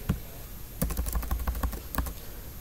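Fingers type on a computer keyboard in quick irregular bursts of sharp clicks, close and fairly quiet, with short pauses between runs of keystrokes and no talking.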